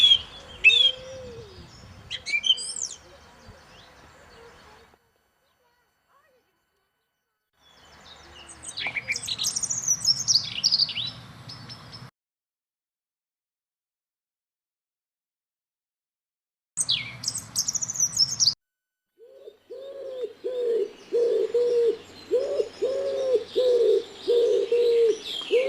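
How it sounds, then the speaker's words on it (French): Birds chirp and twitter in lively bursts separated by silent pauses, followed by a steady run of soft, rhythmic cooing calls with chirps above them. "Et tous les oiseaux répondent par des piaillements joyeux."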